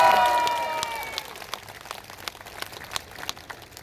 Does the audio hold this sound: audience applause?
yes